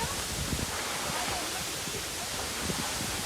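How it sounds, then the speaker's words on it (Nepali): A strong wind roars steadily at the base of a tree near Phungling, a dense, unbroken rush of air. "यस्तो हावा आइरहेछ कि"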